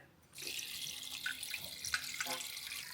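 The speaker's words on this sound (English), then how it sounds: "I'm gonna fill it with water." Tap water runs steadily into a pot at a kitchen sink while bone broth is being prepared, a continuous splashing hiss starting abruptly after a brief quiet moment and staying loud and close throughout.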